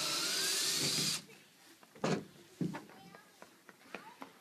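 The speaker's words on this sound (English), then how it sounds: "I'm going to drill this into about a 1/2 inch to get it to go in." A power drill enlarges a 3/8-inch hole to about 1/2 inch for an aquaponics bell siphon, a loud, close whine lasting about a second before cutting off, followed by scattered light knocks and handling clicks.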